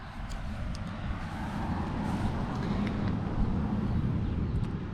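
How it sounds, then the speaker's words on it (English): A vehicle passes on a nearby road, a steady low rumble of tyre and engine noise with wind buffeting the microphone throughout; no clear approach or fade, just continuous broadband road noise. "There's a vehicle going by right now."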